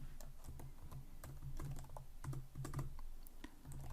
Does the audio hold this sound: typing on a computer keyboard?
yes